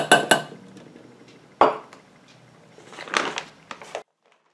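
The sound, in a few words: containers clinking while switching candle container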